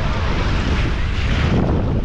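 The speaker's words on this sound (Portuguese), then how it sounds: "Aí aqui já tá batendo um pouco mais de vento" Steady wind roars against the microphone at a beach in Búzios, Rio de Janeiro, with a broad constant rush that covers everything and no voices.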